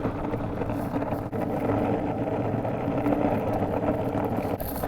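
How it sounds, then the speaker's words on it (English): A strong headwind of about 15 mph roars across the microphone on a long, empty road during a cross-country skate, giving a continuous buffeting rumble with occasional gust dips and no talking. "It's so windy. It's like 15-mile-an-hour winds straight at me."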